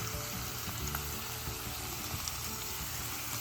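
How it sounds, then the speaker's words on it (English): Food sautéing in plenty of olive oil for a kidney-friendly meal, a dense, even sizzle that holds steady throughout, with no stirring or voices heard. "Get it nice and sauteed, making sure you have plenty of olive oil there."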